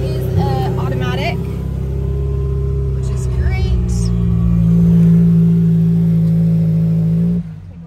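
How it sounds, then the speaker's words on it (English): A 2016 Subaru WRX Limited push-start engine turns over and catches, then holds a steady droning idle heard from inside the car, with someone talking over it before it cuts off abruptly. "Let me get up and get in and start it up."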